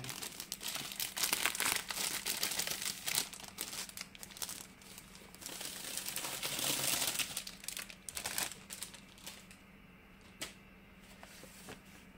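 Plastic and paper packaging crinkles and rustles as a diamond painting kit is unwrapped, with close, irregular bursts of crumpling and tearing that quiet down toward the end.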